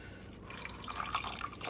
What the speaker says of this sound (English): Now we're gonna add some of that pasta water.